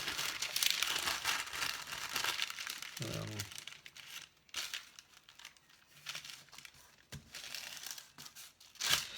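Baking paper for a bread bowl is cut and folded in half and then in half again, giving close, loud crinkling and rustling throughout, with short pauses and a voice talking briefly in the middle.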